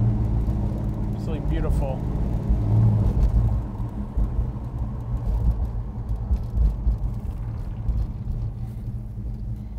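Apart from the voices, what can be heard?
1969 Dodge Super Bee car driving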